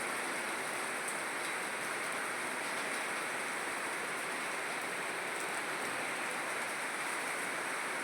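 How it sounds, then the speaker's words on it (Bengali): Heavy storm rain pours down in an unbroken, dense roar that stays loud and even from start to finish, with no voices or other sounds standing out. "প্রচণ্ড জোরে বৃষ্টি হচ্ছে, তোমরা শব্দটা শুনে বুঝতে পারছো"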